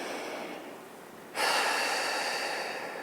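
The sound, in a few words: exhaling breath during Pilates reformer exercise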